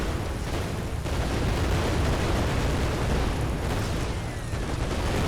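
Orbital cannon explosions in a video game, part of a scorched-earth themed build, merge into a steady, loud, dense roar of overlapping blasts with no gaps.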